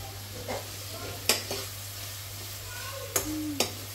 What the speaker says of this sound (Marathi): तर अशा प्रकारे आपण फोडणी वगैरे दिली वरणाला.